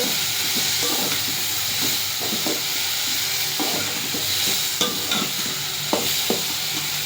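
Food sizzles steadily in a hot pan while a utensil stirs and scrapes at irregular intervals, with no talking.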